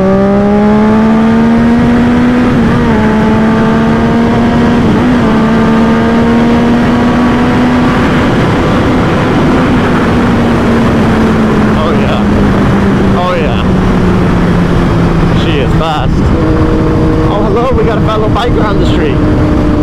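A Triumph Daytona 675R sport motorcycle at speed on the street, its engine note loud and close as it holds a high steady drone, dips slightly and climbs through revs, with wind rush throughout and a person talking over it.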